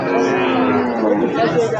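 At a busy cattle market ahead of Eid, a loud, close cow lows in one long drawn-out moo while voices chatter in the background.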